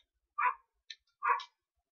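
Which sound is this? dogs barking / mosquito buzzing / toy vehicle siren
dogs barking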